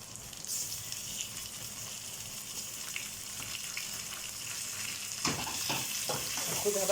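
Meat dropped into a pan of onion and garlic already frying for peas stew, a steady close sizzle throughout that swells and crackles louder near the end as the meat hits the hot oil.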